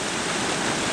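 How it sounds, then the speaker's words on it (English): A brook in New Jersey trout country rushes steadily over a structured streambed, making a dense, even wash of flowing water that fills the short moment without a break. "The water gets a little calmer."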